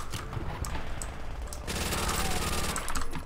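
Call of Duty World at War gunfire crackles in rapid automatic bursts, close and fairly loud, growing denser partway through amid other in-game noise.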